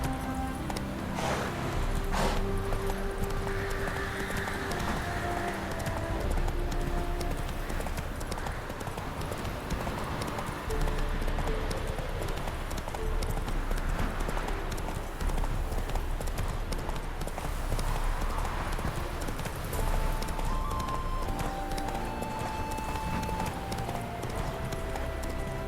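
Horse hooves clip-clop at a steady gallop in The Witcher 3, loud and continuous throughout, with a brief whinny and a rider's shouts over the rhythm.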